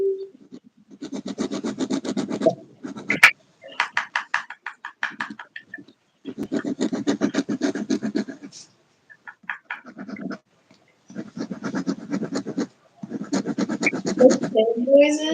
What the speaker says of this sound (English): you can hear the pen noises?